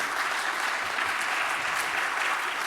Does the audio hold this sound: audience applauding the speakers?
yes